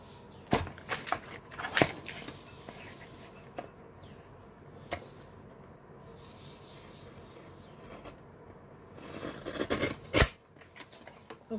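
Scissors make quiet, sharp snips through packaging material, a few scattered cuts and then a quicker cluster near the end, with soft crinkling and handling noise in between.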